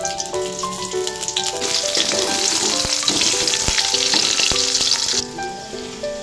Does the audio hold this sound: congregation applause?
no